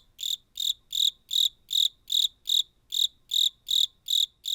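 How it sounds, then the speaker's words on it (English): Crickets chirping in a steady, evenly spaced rhythm of about a dozen short bright pulses, close and clear over near silence. "Crickets."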